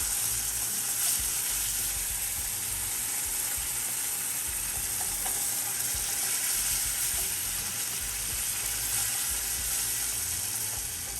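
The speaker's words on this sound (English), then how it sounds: "Just keep whisking." Broth sizzles steadily in a hot pan while a whisk stirs with faint rhythmic scraping; close and continuous, no talking.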